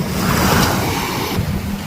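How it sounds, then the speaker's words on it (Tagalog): Sea waves washing onto the shore at Aroma Beach in San Jose, Occidental Mindoro, Philippines, a loud, continuous rushing surf with some wind noise over the microphone and no talk. "Ito ang dagat."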